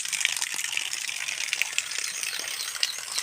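Water gushing steadily outdoors on a farm during rain, a continuous bright rushing wash with a few small splashy ticks, fairly close and alone without talk.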